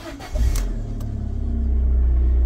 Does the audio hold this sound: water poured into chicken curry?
no